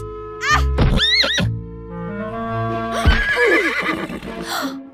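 Horses neighing and whinnying loudly in a stable during grooming, several drawn-out calls with a few dull thunks and hoof clops between them.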